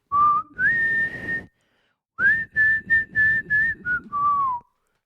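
Someone whistles a clear melody nearby, a long held phrase, a pause, then a run of short rhythmic notes ending on a lower tone.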